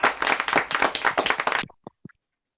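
A burst of quick, close clapping from several people in an online club meeting, rattling for about a second and a half before stopping abruptly, followed by a couple of faint taps.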